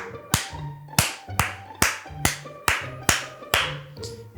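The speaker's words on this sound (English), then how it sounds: "Right, sync claps." Nine sharp hand claps ring out one after another at a steady, roughly half-second pace, loud and close with no talking between them.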